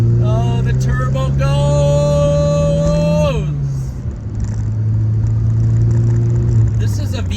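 Turbocharged Pontiac Solstice GXP roadster engine revving up through the gears, a strong rising drone that drops at a shift and builds again, heard from inside the car, loud and steady.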